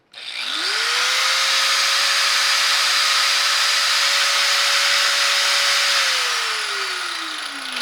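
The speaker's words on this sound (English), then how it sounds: "So what about power tools like a grinder?" A loud power grinder running off a portable power station spins up to a steady high whine, runs continuously for several seconds, then begins winding down, close up with no voices.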